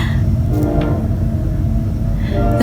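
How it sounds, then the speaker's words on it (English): A passing train rumbles loud and steady close by, with a continuous heavy roar of wheels and cars and a brief horn-like tone near the end. "The trains are going faster and like I feel like less loud lately"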